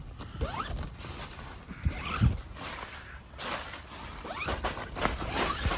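Smooth zipper pulls open the windows of an OVS hub tent, several quick zips close by with fabric rustling and a soft thump in between, and no voices.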